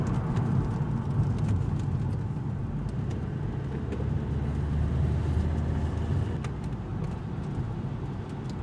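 Opel Astra H driving downhill at full throttle with weak pull, its engine a steady low drone and road rumble running continuously and fairly loud, with no talk.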